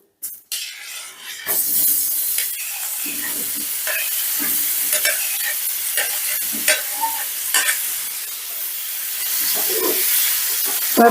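Paneer cubes stirred with masala in a hot pan, opening with a brief hiss, then an ongoing sizzle broken by regular spatula scrapes and knocks, close and fairly loud, with no voices.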